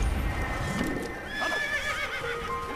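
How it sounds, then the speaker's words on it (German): A horse in the Assassin's Creed video game lets out a loud, close whinny that rises and falls in pitch, over a steady background of game ambience and faint hoof clops. "Und jetzt wollen wir mal gucken, wann uns unser Pferd folgt."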